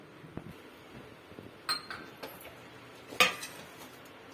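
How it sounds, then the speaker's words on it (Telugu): A kadai pan is set onto a stove for dry roasting, with a few sharp metallic clanks and light clinks scattered over quiet kitchen background. "బాండ్లీ పెట్టాను."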